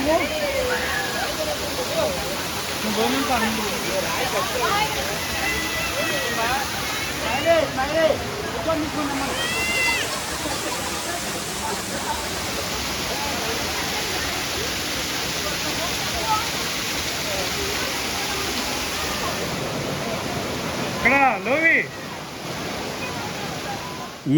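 Jalatarangini waterfall at Maredumilli roars as a steady, dense rush of falling water that stays constant for the whole stretch, with people talking faintly beneath it.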